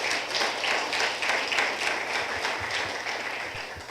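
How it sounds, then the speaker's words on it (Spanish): Congregation at a Spanish-language church service breaking into strong applause, a loud, full crowd of clapping with a loose, rolling rhythm that holds steady for the whole stretch. "yo te pido que le demos un fuerte aplauso"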